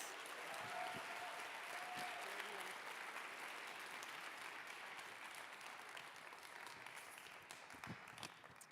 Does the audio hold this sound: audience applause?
yes